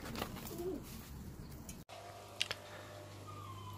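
A pet bird, a pigeon or dove kept in an indoor pet room, coos softly amid quiet room noise and faint background hum, the low cooing distant and faint with a couple of brief ticks.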